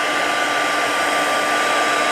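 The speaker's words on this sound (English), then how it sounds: "I'm gonna hit this with my heat tool." A heat tool blows steadily and loudly to dry a watercolor piece made with Distress Oxides, a constant hissing airflow with no speech over it.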